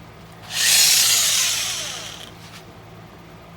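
A broad, hissing abrasive rush of 60-grit sandpaper held against wood spinning on a lathe at 1400 rpm swells up and then slowly fades over a couple of seconds, with no voices.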